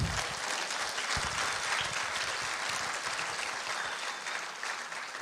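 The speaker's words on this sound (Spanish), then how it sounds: "Denle un aplauso al Señor." A church congregation applauds during a service, giving a continuous wash of clapping that stays faint and even.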